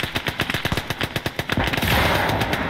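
A .50 caliber machine gun fires rapid, evenly spaced bursts during a tank fight in Call to Arms: Gates of Hell, then the shots blur into a dense, continuous roar of gunfire.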